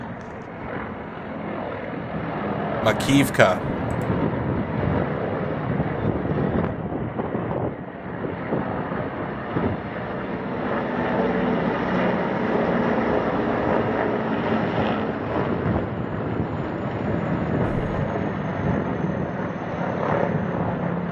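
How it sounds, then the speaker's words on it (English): Russian Mi-35M and Mi-8 military helicopters fly near Makivka, a steady, broad rotor and engine roar that holds for the whole stretch, with a single word spoken partway through. "video of a Russian Mi-35M and Mi-8 helicopters near Makivka"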